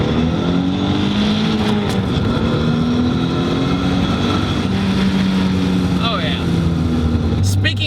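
A twin-turbo Nissan 300ZX with a JDM VG30DETT V6 running about 20 to 22 psi of boost gives a steady, loud engine drone with a rising whine near the end, under continuous talking.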